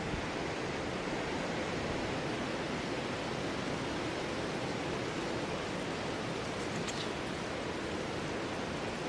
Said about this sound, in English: My tortellinis are erupting into a violent boil here.